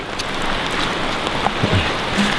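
Steady winter rain falling at Milford Sound, a dense continuous hiss of drops filling the scene at moderate level, with no one speaking.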